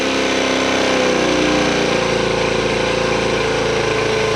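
A Honda Trail 110 motorcycle fitted with a Wincycles carburetor idles slightly high, giving a loud, steady, close engine rumble throughout with no talking.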